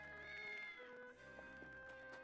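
A cat meows in the Triangle Strategy video game, a few drawn-out tonal cries riding over layered game music, with no talk.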